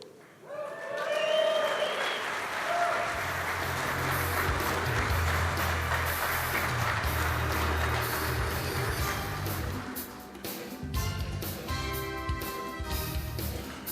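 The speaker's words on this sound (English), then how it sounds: "how about a big round of applause for the first 3 award winners of the week right there" An audience at a welcome night applauds award winners, thick sustained clapping that swells early and carries on for several seconds, with music and a voice briefly heard at the start and scattered cheers fading toward the end.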